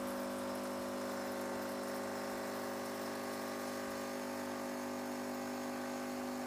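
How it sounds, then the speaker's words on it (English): A Bosch Tassimo Joy TAS4502GB coffee machine pumping espresso, a steady, loud mechanical buzzing hum with a constant tone and no breaks throughout. "Okay, here comes the espresso."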